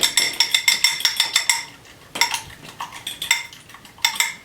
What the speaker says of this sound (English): just whisk it really quick.